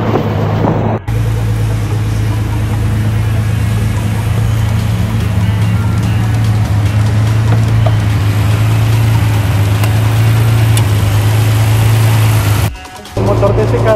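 A Nissan GT-R with a 3.8-litre twin-turbo V6 idles steadily, a loud, even low hum holding for most of the stretch, briefly cut near the start and again near the end.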